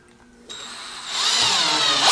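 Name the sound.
cordless brushed drill driving a screw into wood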